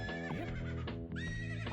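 A horse whinnies repeatedly in a video game, loud, close-up neighs with rising and falling pitch sweeps running through the clip over a steady, busy game soundtrack, with no talk.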